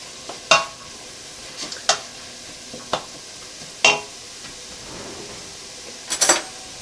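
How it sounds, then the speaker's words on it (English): Wilted cabbage being stirred in a frying pan with a utensil, a sparse series of sharp scrapes and clinks against the pan over a soft sizzle. "all that goodness on the bottom has now been pulled up and is being mixed back into the cabbage"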